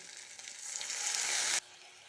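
Water poured onto ginger frying in oil for a tangra fish curry hits the hot pan with a loud, hissing sizzle that swells for about a second and a half, then cuts off abruptly to a quieter simmer.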